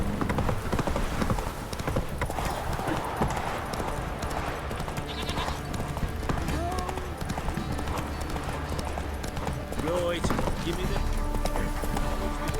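Horse hooves clip-clop at a galloping pace in The Witcher 3 video game, loud and steady throughout, with game sounds and a voice speaking over them.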